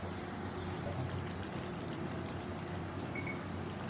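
Hot water poured into a pot of chicken korma, a quiet steady stream of liquid trickling in, faint and unbroken with no talk.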